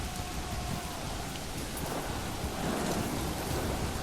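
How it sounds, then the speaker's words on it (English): Rain and thunderstorm in the medieval strategy game Manor Lords, heard during a battle: steady heavy rainfall hisses continuously, with a low thunder rumble swelling toward the end. "Epic little battle in the thunderstorm."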